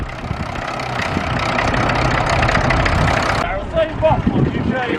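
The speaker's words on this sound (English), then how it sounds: "Also parked up is this lovely Fortune Major Perkins diesel engines running." A vintage Fordson Major tractor's Perkins diesel engine idles at an outdoor ploughing event, a low chugging rumble nearby, with a voice talking over it that fades out toward the end.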